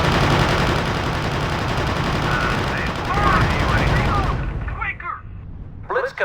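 Sustained machine gun fire in R.U.S.E. during the Battle of the Bulge, a dense continuous roar of rapid shots that fades into scattered distant bursts, with faint voice-like fragments near the end.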